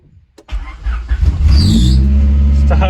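Honda Civic EF with a B16 engine cranking briefly, then catching and settling into a loud, steady, fairly high idle close to the microphone.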